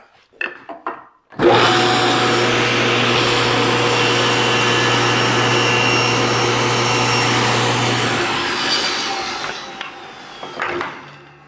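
A table saw cuts a drawer lock joint in wood, starting abruptly after brief handling noises and running as a loud, steady whine and buzz for several seconds before winding down, with no talking.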